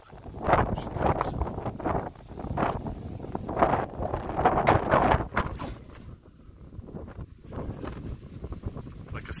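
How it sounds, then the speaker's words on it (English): Gusting wind buffets the microphone on an exposed hillside, a continuous rumbling roar that swells and eases in waves across the whole stretch, loud and close. "There's a lot of wind up there."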